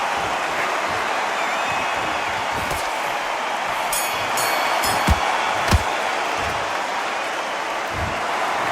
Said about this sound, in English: Ooh, listen to that crowd.